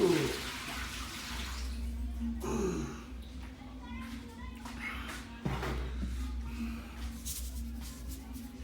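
Running tap water splashes steadily over a pork head net being washed in a kitchen sink, a continuous close rush with a voice murmuring faintly underneath.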